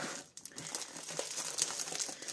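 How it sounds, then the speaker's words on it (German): Sheets of 6x6 inch craft paper crinkle and rustle as they are handled and slid into a storage box, a close, continuous papery crackle with small taps. "Ich bringe jetzt mal meine Papiere hier rein."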